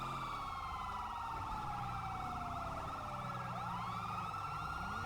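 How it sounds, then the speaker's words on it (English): Police car dual sirens in GTA 5 wail continuously, two overlapping tones sweeping up and down, loud and steady for the whole span with engine rumble underneath. "Get our dual sirens running."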